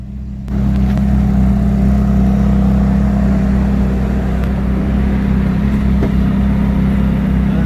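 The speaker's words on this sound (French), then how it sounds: "on va rouler en Ferrari" A Ferrari 458 Italia sports car engine starts up with a sudden loud onset and then settles into a strong, continuous low drone heard close by.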